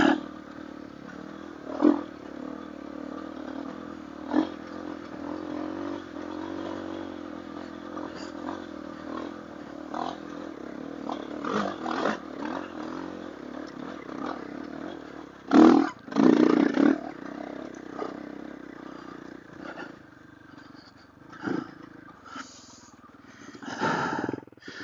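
A motorcycle engine idles unevenly with short rev bursts and clattering mechanical knocks, fairly close and intermittent, with occasional louder surges standing out over a low rumbling background.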